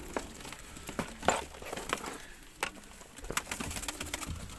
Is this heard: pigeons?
yes